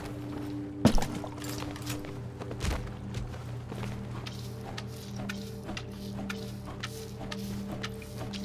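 Water pours and splashes into a container during a refill in the crime-scene cleanup game Crime Scene Cleaner, with an initial clunk followed by a steady trickling wash and scattered small clicks, with no talk.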